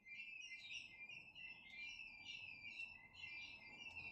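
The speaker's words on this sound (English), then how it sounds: "What an interesting bird sound." A bird calls outdoors in faint, repeated high whistling chirps, steady and distant over a quiet background.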